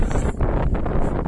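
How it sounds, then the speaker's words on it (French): Heavy wind buffeting the microphone on a mountain via ferrata in the Vanoise, a loud rumbling roar with gusty fluctuations throughout. "pas sûr qu'on t'entende avec le vent"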